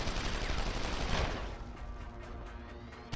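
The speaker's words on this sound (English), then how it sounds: "We'll just throw some frag grenades at him since we can't use them otherwise." Frag grenade explosions in the game Deus Ex: Human Revolution roar as a dense, loud burst of blasts and crackling debris that gradually thins and fades, with faint ticking afterward and no speech.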